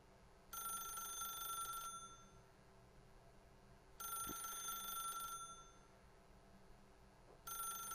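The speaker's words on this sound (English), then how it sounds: "I will not pick up the phone. Just keep ringing." A telephone rings in The Stanley Parable, three bright electronic bursts at steady intervals, each lasting over a second with quiet pauses between, heard alone and fairly faint.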